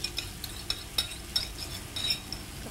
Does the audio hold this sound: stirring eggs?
yes